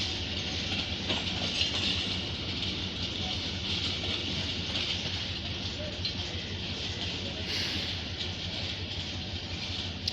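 Pak Business Express passenger train rolling out of Lahore on rain-disturbed track, a steady broadband rumble and rattle of carriages heard from on board, continuous throughout with faint background chatter.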